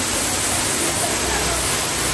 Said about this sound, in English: Look at the water.